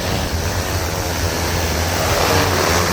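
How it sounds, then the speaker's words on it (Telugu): An agricultural spraying drone flies overhead, giving a loud, continuous whooshing whir with a low steady hum beneath it and no talking. "ఇది డ్రోన్."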